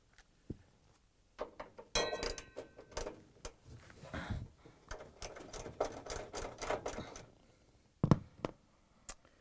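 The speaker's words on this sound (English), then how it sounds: "We're going to use a 10 millimeter socket wrench." A 10 millimeter socket wrench ratchets a bolt on a Samsung washer during a shock absorber replacement, rapid close clicking in bursts separated by short pauses, with a few louder knocks.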